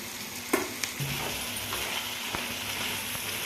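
Chicken dum biryani sizzles softly in a pot, a steady low frying hiss with a few light clinks and stirring scrapes, no voices.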